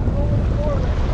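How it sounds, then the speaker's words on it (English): Strong wind buffeting the microphone while fishing for striped bass from a boat, a steady loud low rumble of gusts and water throughout with a faint tonal whine, no clear talk. "the wind is a little heavy, but it's good"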